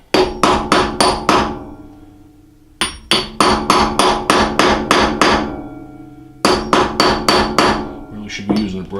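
Steel hammer striking a gear being fitted onto a South Bend lathe part during restoration, three sharp bursts of rapid, evenly spaced metallic taps, five to nine blows each, with short pauses between, close and loud with no talk.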